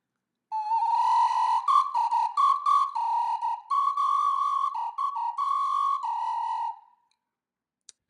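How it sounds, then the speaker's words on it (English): A shrill sports whistle blows in a string of short and sustained blasts, its pitch sliding up and down between notes, heard alone. "So this whistle has, it's kind of like a standard, like a sports whistle"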